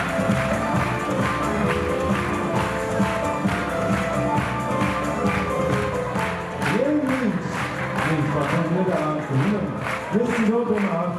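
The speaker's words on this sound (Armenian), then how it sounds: "ձեր բարձր ծափահարությունները։" An audience gives loud, sustained applause after a dance performance at a concert, with rhythmic clapping and crowd noise continuing throughout.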